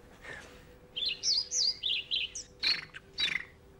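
A man whistles an imitation of a dunnock's song, a run of quick, high warbling chirps in short bursts, fairly clear and close with no talking over it.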